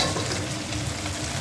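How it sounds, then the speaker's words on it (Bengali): Bori, small sun-dried lentil dumplings, fry in hot oil in a pan with a steady, close crackling sizzle throughout the short stretch, with no voices. "চলো বড়িটা ভেজে নেওয়া যাক,"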